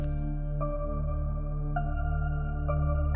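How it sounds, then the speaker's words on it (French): A sustained instrumental tone with notes that repeat and echo at regular intervals, each repeat trailing behind the last, from a delay effect applied in FL Studio. "Il y a le delay."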